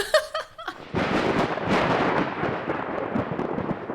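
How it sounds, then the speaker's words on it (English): A thunder crash sound effect rolls in with a loud, rumbling boom that follows a short burst of sound at the start and then sustains as a dense, crackling roar for several seconds. "A Thunder Crash."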